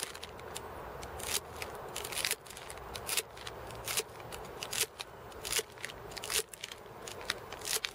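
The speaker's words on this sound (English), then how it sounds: "some of these vegetables that I brought with me need to be cut up a little bit" Knife cutting up vegetables outdoors beside a stove, repeated crisp crunching and slicing strokes at an irregular rhythm, close and fairly loud.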